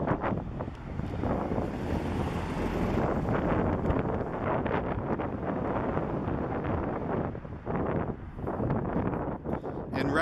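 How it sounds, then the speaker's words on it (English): Steady, broadband wind rumble buffets the microphone throughout on a street in Moscow, Russia, loud and continuous, with a voice speaking faintly underneath. "It's a little breezy right here, a little windy"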